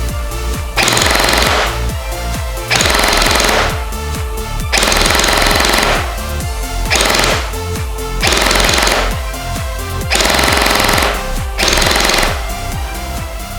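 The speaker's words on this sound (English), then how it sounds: "So we'll flick over to full auto and we'll give it a rate of fire test." Le Hui Kriss Vector V2 gel blaster firing on full auto, loud rapid buzzing bursts of a few seconds each, repeated about six times with short mechanical gaps between.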